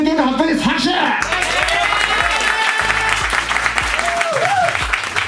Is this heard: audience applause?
yes